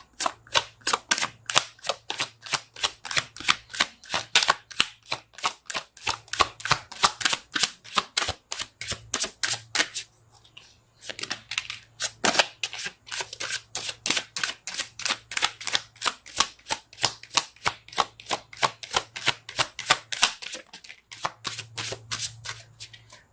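Tarot cards shuffled by hand in a long run of quick, crisp riffling snaps, close and fairly quiet, with brief pauses around the middle and near the end.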